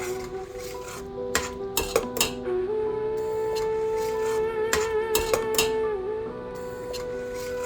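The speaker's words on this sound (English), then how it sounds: "I mix them with the potatoes and masala and let everything cook" A utensil scrapes and clinks against a cooking pot as potatoes with masala are stirred, giving repeated close metallic knocks in short bursts over a steady background hum.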